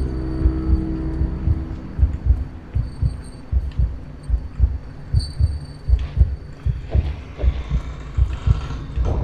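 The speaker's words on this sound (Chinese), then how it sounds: "我听你心跳声。" In the horror video game Among the Sleep, a heartbeat thumps in a steady, rapid rhythm of low double beats, loud and close over a dark droning hum.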